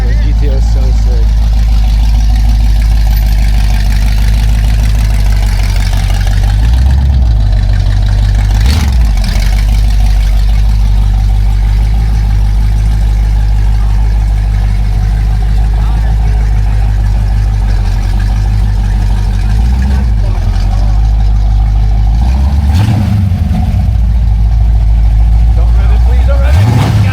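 A Pontiac GTO's engine rumbles steadily at idle at a car meet, with a few brief revs swelling over the low drone while people talk nearby.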